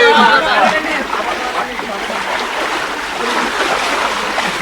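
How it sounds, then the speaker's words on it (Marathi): Fast floodwater from the overflowing Sina river rushes past in a steady, loud roar with sloshing and splashing, close by, while someone talks over it. "त्या सिना नदीपासून साधारणतः एक दोन तीनशे मीटरवरती सुद्धा पाणी असं ओढतंय सगळं पूर्णपणे"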